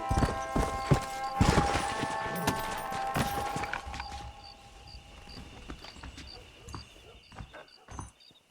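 Horse hooves clip-clopping at pace in Red Dead Redemption 2 on PS3, a steady run of loud, close hoof beats with a brief whinny and gear jingle, the galloping slowing and fading toward the end.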